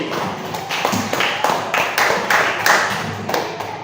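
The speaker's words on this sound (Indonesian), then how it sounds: "Kita beri aplaus untuk kelompok B." Audience clapping for a presenting student group in a classroom teaching session, a steady moderately loud patter of hands lasting a few seconds.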